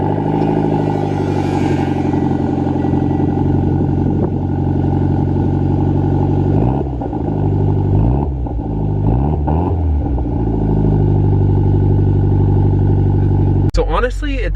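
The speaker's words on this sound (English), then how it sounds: "you guys might want to hear what this car sounds like on a cold start" A Mitsubishi Evo X MR with an ETS V2 exhaust cold-starts and settles into a loud, lumpy idle, its deep exhaust drone rising and dipping close to the microphone, with a sharp click near the end.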